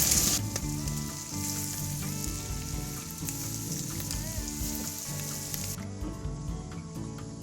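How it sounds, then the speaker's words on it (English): Shrimp sizzle and crackle steadily in a hot pan, a loud, continuous frying hiss with faint stirring, and no voices. "add all your shrimps to your pot or your frying pan"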